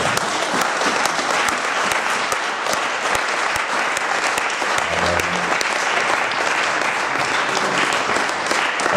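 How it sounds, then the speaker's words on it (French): A church congregation applauds and cheers for the Lord, a loud, steady wall of clapping that carries on evenly without a break, with faint voices mixed into the crowd. "Est-ce que nous pouvons acclamer très fort le Seigneur?"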